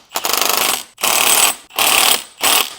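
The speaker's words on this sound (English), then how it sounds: "This is an 8mm Allen driver." An 8mm Allen driver ratchets a bolt on a frame slider being fitted to a KTM 990 Duke motorcycle. Four loud, close bursts of rapid clicking are separated by short pauses.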